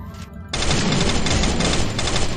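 Rapid gunfire in the Free Fire battle royale video game, a dense burst of automatic shots that starts suddenly and rattles on loudly and continuously after a brief quieter moment.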